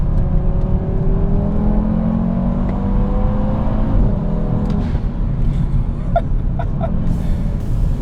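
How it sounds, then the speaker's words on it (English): Audi RS3 with a custom exhaust, tuned to about 500 hp, driving along with a steady engine drone and rising whir, fairly moderate in loudness, with a few faint clicks near the end. "Custom exhaust on this one as well. It's not too loud"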